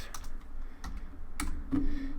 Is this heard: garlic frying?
no